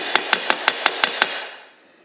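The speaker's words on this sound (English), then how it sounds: "that is actually an Air Ministry hammer, and it's dated 1943" A 1943-dated Air Ministry hammer strikes metal seven times in a steady, evenly spaced rhythm, each blow sharp and ringing, while working on a Bristol Hercules 14-cylinder sleeve valve radial engine, with the last hit leaving a fading ring.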